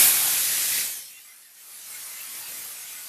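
Cleaned dried prawns fry in a pan, giving a close, bright sizzling hiss that dies down briefly, then settles into a quieter steady spatter.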